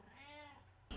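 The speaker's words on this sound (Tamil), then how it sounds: "இது எங்கள் பூனைங்க, அது குட்டிங்க." A single drawn-out meow from a pet cat, close and clear, ending abruptly as a loud noise cuts in.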